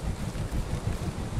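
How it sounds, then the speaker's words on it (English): Steady low wind roars and gusts across open terrain in the video game Valheim, a continuous rumbling whoosh with no breaks. "it's a nice windy day"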